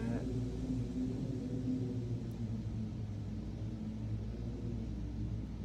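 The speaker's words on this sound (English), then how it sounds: "Sheesh, that wind is strong." Strong outdoor wind buffets the microphone with a constant low, rumbling roar and no other clear sounds.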